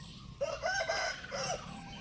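A fighting rooster, a Burmese-Thai and Japanese cross, crows clearly from close by, one drawn-out call and then a second shorter one, over low farmyard background noise.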